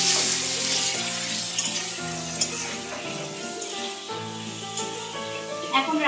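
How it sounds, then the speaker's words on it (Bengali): Pointed gourd pieces frying in oil in a pan give a continuous crackling sizzle with occasional stirring scrapes and pops, moderately loud and close, while a faint tonal hum runs underneath. "পটলটা ভাজছি, তারপরে নামিয়ে সয়াবিন ভাজবো"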